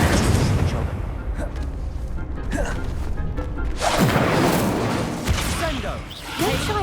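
Spell blasts and magical impacts from Hogwarts Legacy duel combat, a steady stream of booms and crackling bursts with a loud surge midway, while a player's voice calls out spell names over them.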